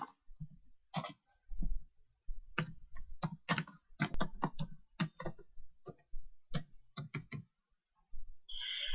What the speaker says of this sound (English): we would press the enter key and type in their address